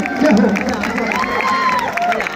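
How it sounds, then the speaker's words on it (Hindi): A Ramlila audience claps and cheers for a staged scene, crowd noise and scattered shouts rising and falling around brief voices, with bursts of excitement near the start. "जोरदार ताली हो जाए"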